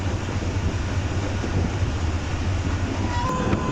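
The Shalimar Express passenger train runs on rails between Karachi and Lahore with a loud, steady rumble of wheels and carriages, heard from on board, and a faint tonal whine near the end.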